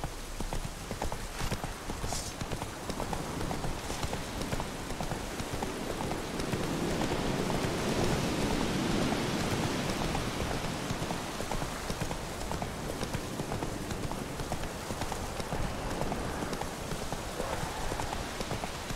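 Roach, the horse in The Witcher 3, clip-clops along at a steady, unbroken gait. Dense hoofbeats ride over a constant hissing, rain-like wash that lasts throughout.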